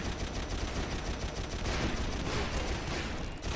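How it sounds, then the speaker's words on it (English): Dense, continuous gunfire from an emulated Xbox 360 shooter running in Xenia, a loud sustained barrage of rapid shots striking the player, with no talk over it. "I'm taking a lot of bullets right now"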